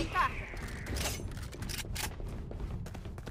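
Gunfire from a tactical team shooter video game, with a couple of sharp broadband shot bursts and mechanical clicks over a dense game soundscape while a player talks.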